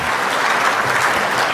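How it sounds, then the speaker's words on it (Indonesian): An audience at an Indonesian official event claps loudly and steadily for the agriculture minister, a dense burst of applause with no talk over it. "Berikan tepuk tangan untuk Bapak Mentan kita."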